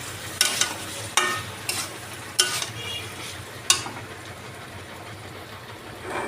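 Three eggs dropped into a hot pan of sautéed, browned food: a steady low sizzle under several sharp clicks and taps of cracking shells and a utensil against the pan, spaced irregularly, with no talking.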